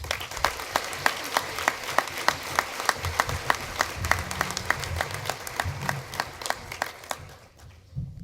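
Steady applause from an audience at a Forum Club gathering as speaker Loren Mayor is welcomed to the stage, dense rhythmic clapping holding for several seconds before thinning out and fading.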